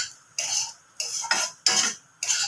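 A spoon scrapes through one cup of medium semolina (rava) roasting in oil in a pan for suji idli, making four crisp, rhythmic stirring scrapes close up with short pauses between them.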